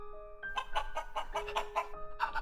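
A chicken clucks in a rapid run of short, close, fairly loud pulses over a steady background tone, with no talk over it.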